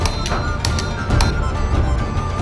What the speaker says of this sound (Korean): 선배의 망치질에 박자를 맞춰 두드리는데